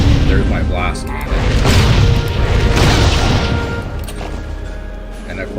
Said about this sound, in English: So there's my blast cannon.